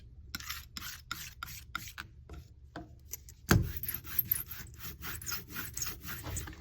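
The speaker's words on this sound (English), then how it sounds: "I'm gonna scrape a little bit of it off, get it back in the jar." A dry, close scraping and rubbing of excess printing ink off a surface, with short rasping strokes repeated at an uneven pace, then a louder sustained scrape that trails into more gritty strokes.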